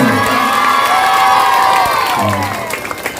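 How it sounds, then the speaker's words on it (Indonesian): Audience at a volleyball tournament prize ceremony during a public religious gathering cheers, shouts and applauds loudly, a dense sustained crowd roar with children's voices that eases slightly toward the end. "Bagi ya tepuk tangannya lagi terus."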